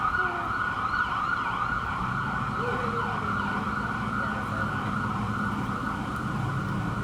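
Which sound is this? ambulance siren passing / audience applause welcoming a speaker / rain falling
ambulance siren passing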